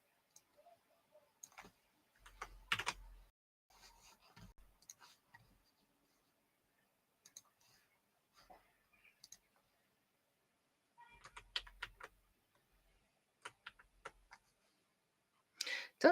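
Sparse clicks and taps from a computer keyboard with new keycaps come in short bursts separated by quiet pauses, close and soft.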